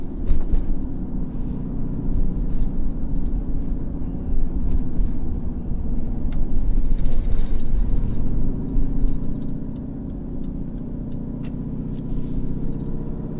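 A Jeep SRT Trackhawk cruises at 30 mph in traffic, heard from inside the cabin as a steady, low road and engine rumble. The level swells slightly, with occasional faint clicks and no talking.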